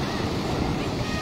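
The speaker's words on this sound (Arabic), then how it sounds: "بحر هادئ" Calm sea washes against the Casablanca coastline near the Hassan II Mosque, a brief, even hiss of gentle surf mixed with wind rumble on the microphone.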